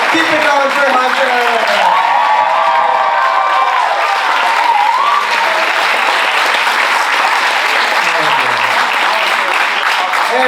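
A comedy show crowd keeps up loud, continuous clapping for comedian Hunter, with scattered cheers and shouts through the whole stretch while a voice carries over the applause.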